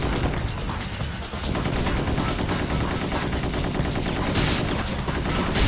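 Loud, rapid gunfire in the PC video game Gun Metal rattles almost without a break, dense overlapping bursts filling the whole stretch.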